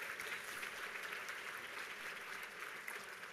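Audience at a grant luncheon applauds steadily, a dense, even wash of clapping from a crowded room for several seconds with no voices over it.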